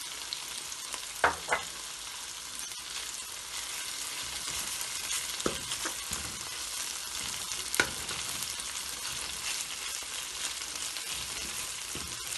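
Cumin seeds and green chillies frying in hot oil give a continuous soft sizzle with a few scattered pops and spoon clicks, close by.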